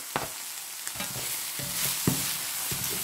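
Garlic hisses in hot extra virgin olive oil, a constant bright sizzle with a few sharp scrapes of stirring at irregular intervals, close and fairly loud.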